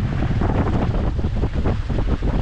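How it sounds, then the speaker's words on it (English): A sailboat on a lake rides choppy waves in strong wind. Loud, steady wind buffeting fills the whole stretch, with water slapping and the hull bumping underneath and no talk. "definitely feel the boat starting to bump on the waves"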